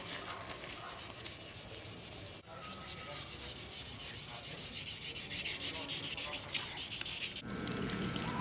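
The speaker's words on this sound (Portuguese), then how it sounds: "o próprio arrasto da lixa na pintura já indica se você lixou o bastante ou não" Sandpaper rubs the painted frame of a moped in a continuous, close, loud rasp, with short stroke changes and a brief break partway through.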